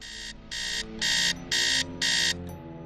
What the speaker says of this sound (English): I'm gonna set the alarm for 10 a.m.